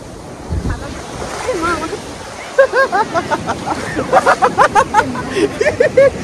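Sea waves wash and splash onto the beach at Digha, a broad rushing surf under lively voices and laughter from people nearby.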